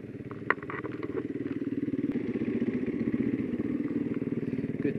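KTM 350 dirt bike riding on a forest trail at Waiparous, a close, steady pulsing engine putter with light clatter throughout.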